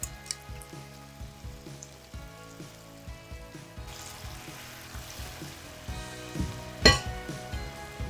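Ground spice paste sizzles and fries steadily in a pan, with occasional scraping stirs and a sharper clatter near the end; no voices.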